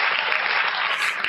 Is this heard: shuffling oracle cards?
no